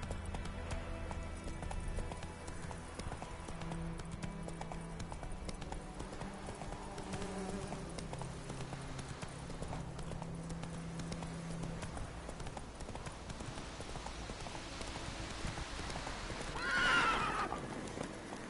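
A horse gallops in The Witcher 3 with a steady run of clip-clopping hooves under a layered game soundscape, ending in a brief whinny-like swell near the end.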